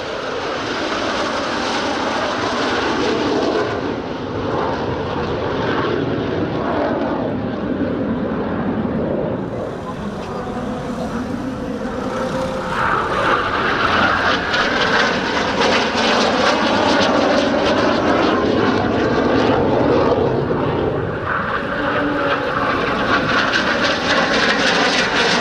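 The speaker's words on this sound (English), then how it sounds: "Here we see a formation of 6 IAR-99 training aircraft, followed by another solo demonstration of the type." A formation of six IAR-99 jet training aircraft passes at a Romanian Air Force airshow, a loud continuous jet roar that swells and shifts in pitch as the group flies by, with crowd noise beneath.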